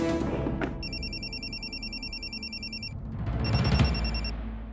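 A telephone ringtone in a home in a Hindi TV serial plays in two electronic, melodic bursts, the second shorter. It sounds clear and fairly close over a low background hum, with no talking.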